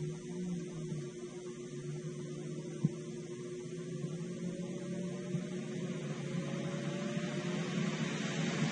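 A fan ramps up to high speed, a steady mechanical hum with a constant whirring drone, holding even and slowly building in intensity, one brief click partway through.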